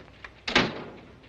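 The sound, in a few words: door opening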